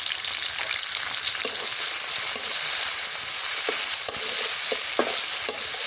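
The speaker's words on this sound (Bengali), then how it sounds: "এর জন্য তেল দিয়ে দিয়েছি, পেঁয়াজ কুচি দিয়ে দিই। এখন শুটকি দিয়ে দিই, কাঁচামরিচ ফালি দিয়ে দিই" Chopped onion, dried fish and sliced green chili fry in hot oil with a steady loud sizzle, broken by repeated scraping stirs in the pan.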